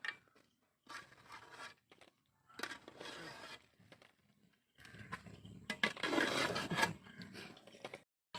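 A spoon stirs kappa (tapioca) biryani in a cooking pot in several separate bursts of close, gritty scraping and rubbing. The final stretch is longer and louder, with quiet pauses between bursts.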